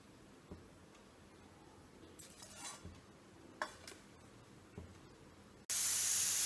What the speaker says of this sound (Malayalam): ഇപ്പോൾ കുക്കർ ഒന്ന് വിസിലടിച്ചു.